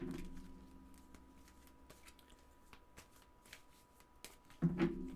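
Tarot cards shuffled and drawn, a faint, soft run of riffling and flicking card sounds close by, ending in a brief louder burst, with no talking.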